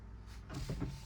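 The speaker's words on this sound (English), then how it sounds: "You can hear the pump running." A small electric pump on a Mahindra Roxor hums steadily at close range, a low continuous drone that swells slightly partway through.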